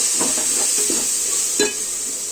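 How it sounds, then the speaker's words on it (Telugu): Salt and chili powder frying in hot oil for Nellore-style small-fish pulusu, a steady close sizzle with soft stirring scrapes and one brief louder spatter, no voices. "1 స్పూన్ సాల్ట్, 2 స్పూన్స్ కారం వేసి బాగా వేయించుకోవాలి."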